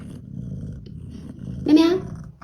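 A pregnant stray female cat purrs in a low, soft rumble close by, then a brief rising vocal call cuts in near the end.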